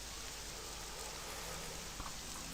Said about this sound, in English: I'm not going to stand about in the rain.